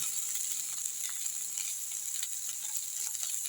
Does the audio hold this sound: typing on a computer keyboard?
no